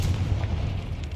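A Bombarda blast spell in the Hogwarts Legacy video game, a deep, heavy boom that rumbles and decays within about a second.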